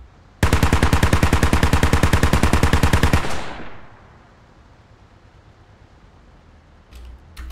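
Automatic gunfire in the video game Squad, a loud, fast, evenly spaced burst of about three seconds that cuts off into quiet ambience, with a couple of faint distant shots afterward.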